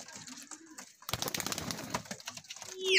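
Pigeons kept for sale by a pigeon fancier coo in low, repeated calls, with bursts of fluttering and scuffling in the middle and a sharp high noise at the end.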